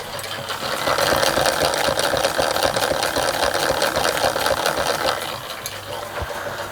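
A Marklin 4122/7 hybrid model steam engine, with loose crankshaft bearings, runs with a rapid, continuous mechanical clatter close up that eases slightly toward the end.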